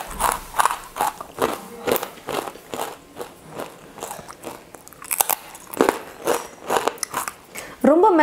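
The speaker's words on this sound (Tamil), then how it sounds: "இப்போ நான் சாப்பிட்டு பார்க்குறேன் எவ்வளோ கிறிஸ்பியாக இருக்குன்னு பாருங்கள்" A crispy fried rice flour snack with curry leaves is bitten and chewed close up, giving repeated loud crunches between stretches of talk.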